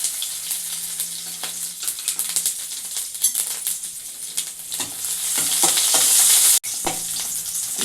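Crushed garlic and mustard seeds frying in hot ghee for a coconut sambar, giving a close, crackling sizzle with scattered pops and spits that swells louder toward the end, cut by a brief sharp dropout.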